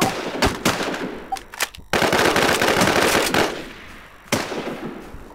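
Machine-gun fire in an online shooter video game, with rapid loud bursts of automatic shots broken by short pauses and single cracks, close and sharp, with no voices.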